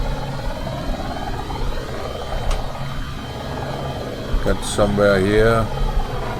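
A steady helicopter engine drone from an AS350B3e in the X-Plane 11 flight simulator fills the clip, with a person talking over it and a brief change in the engine whine near the end.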